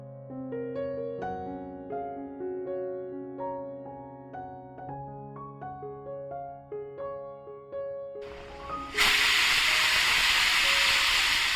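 Piano-like melodic music plays, then a loud continuous hissing rush of steam from a pressure cooker whistle cooking mutton bursts in and holds near the end.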